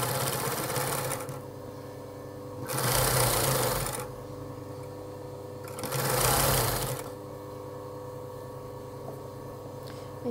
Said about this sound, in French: je vais coudre les côtés